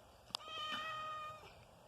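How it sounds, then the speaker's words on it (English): A house cat meows once in a long, drawn-out, rising-and-falling cry, fairly close and clear, with a brief sharp knock just before it and quiet room noise around it. "Just going to ignore that cat, the cat crying."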